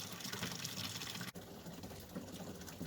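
Water gushes steadily out of the water change pipe of an outdoor IBC turtle enclosure for Reeves turtles, a constant splashing flow with a brief dip partway through, no talking.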